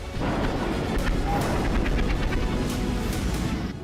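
Dense, rumbling explosions and crackling impacts run continuously in Caracas, Venezuela, with a scattering of sharper bangs over a steady low roar.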